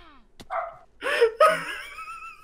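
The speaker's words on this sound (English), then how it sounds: "I should probably shut my dog up first." An indoor pet dog barks and whines a few times in quick succession, close and fairly loud, with no talking over it.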